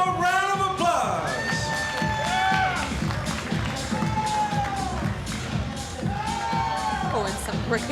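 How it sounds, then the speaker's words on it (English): A crowd cheering and shouting with scattered clapping at a no-gi grappling event, lively and sustained, with whistles and raised voices throughout. "let's give these two competitors one more round of applause"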